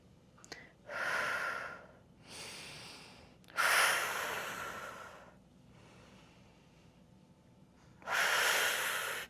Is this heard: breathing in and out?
yes